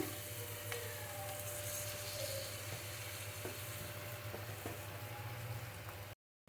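Puffed rice being stirred into fried onions and tempering in a pan, a steady soft sizzle with scraping stir strokes, close and without talk, cutting off briefly near the end.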